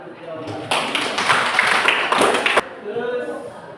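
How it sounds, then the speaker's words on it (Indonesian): Classroom applause for a student's correct answer in a junior high maths lesson, a burst of clapping from many hands lasting about two seconds, fairly close and loud, with voices before and after. "tepuk tangan untuk jawaban"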